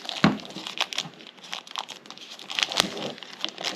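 Packaging for DJI Mini 3 Pro flight batteries crinkles and tears in close, uneven bursts of ripping and rustling as it is pulled open by hand.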